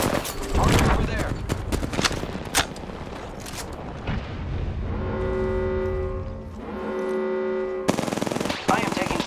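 Gunfire in the Apex Legends video game: dense, loud bursts of automatic fire and shots, then a sustained tonal game effect and another burst at the end, with voices speaking in between.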